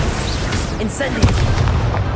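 An Incendio fire spell cast in a Hogwarts video game, a dull boom with a bright burst amid continuous crackling game noise and a speaking voice, the strongest thump arriving about halfway through.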